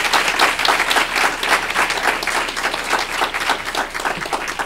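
Loud, sustained applause from a large audience at an event on urban schools, a thick wash of clapping that stays strong and steady from start to finish.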